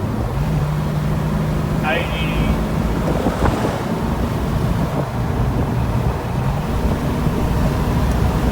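Steady road and wind roar inside a Jeep TJ cruising on an open highway at speed, with continuous rushing noise throughout and a brief squeak in the middle.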